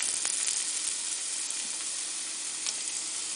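A pork rib roast browning in a hot pan gives off a steady, close sizzle with faint crackles and pops running continuously.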